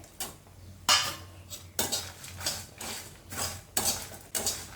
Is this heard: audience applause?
no